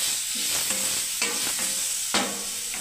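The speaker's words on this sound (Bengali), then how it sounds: "আমি এই তেলেই ভেজে নিচ্ছি।" Papaya, carrot and potato pieces fry in oil, a steady close sizzle broken by several scraping stirs of a spatula in the pan.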